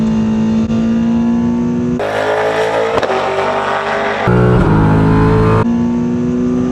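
Street car engine on VTEC pulling hard in third gear, loud and near, revving up through stepped pitch jumps with one brief shift dip, racing alongside a V8 Supercar.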